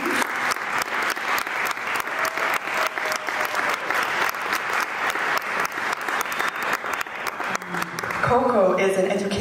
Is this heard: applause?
yes